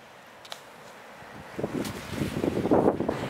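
Wind gusting at Gracetown on a rainy coastal day, starting as a soft hiss and swelling into loud buffeting rushes against the microphone in the second half.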